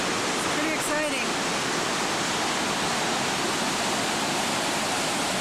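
Victoria Falls roars as a dense, constant wash of falling water heard from close by. A voice speaks briefly near the start over the roar.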